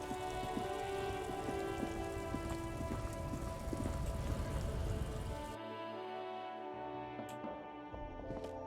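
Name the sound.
rain falling in the video game Disco Elysium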